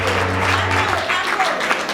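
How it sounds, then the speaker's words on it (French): Audience applause at an award ceremony, greeting the 2020 best screenwriter trophy winner; a steady wash of clapping from a crowd, with faint tonal sounds mixed in. "Est-ce qu'on peut applaudir?"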